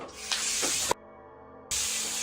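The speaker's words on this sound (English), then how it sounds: "I think those are chimney swifts." Baby chimney swifts hiss from inside an abandoned house, two loud breathy bursts of spray-like hissing separated by a short pause, close and harsh.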